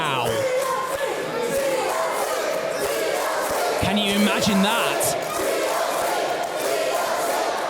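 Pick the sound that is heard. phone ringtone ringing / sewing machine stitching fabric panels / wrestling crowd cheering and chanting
wrestling crowd cheering and chanting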